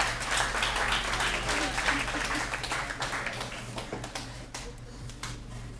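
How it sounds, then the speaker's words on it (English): An audience at a poetry reading gives a poetry group a round of applause. Many hands clap loudly at first, then thin out into scattered, sharper claps toward the end over a steady low hum. "Let's have a big round of applause for the Metermaids."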